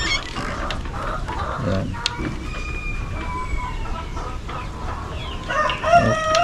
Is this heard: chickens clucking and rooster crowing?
yes